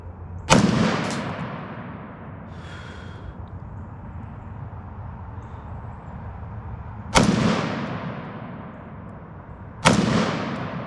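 Three loud outdoor gunshots from a Smith & Wesson pistol fired at bottles downrange, each a sharp crack with a decaying echo, spaced several seconds apart over steady background noise.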